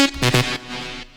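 A bright synth melody from the second half of a future rave drop, with its notes pitched higher, plays as a loud burst of a few quick stabs that then sustain and fade, with no voice.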